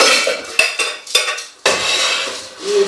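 A small casserole pot and pans clattering in a home kitchen, several loud close metallic clanks and scrapes in quick uneven succession, with no voices.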